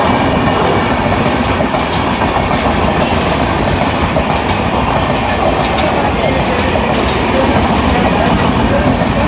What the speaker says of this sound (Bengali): এইদিকে একটি ঢুকছে জনশতাব্দী।